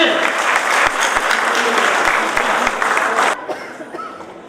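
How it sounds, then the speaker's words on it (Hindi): Loud, dense applause from a crowd at an Ambedkar Jayanti event, steady clapping that cuts off abruptly near the end, leaving a quieter room with faint murmurs. "जोरदार तालियां सबके लिए।"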